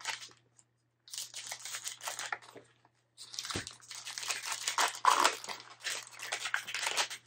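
Scissors snip and crinkle through small plastic supplement packets in short bursts of cutting and rustling, close and fairly quiet, with a brief pause between.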